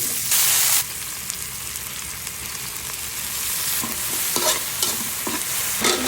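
Pinakbet vegetables, including eggplant and bitter melon, are stir-fried in a hot pan: a loud, continuous hiss broken by a brief bright burst early on and repeated scraping stirs toward the end.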